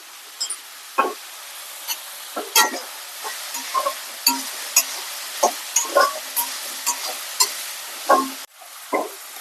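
Cabbage sautéing in hot oil in a pan, giving a steady soft sizzle broken by frequent brief scraping and stirring knocks from a utensil, close by with no talking.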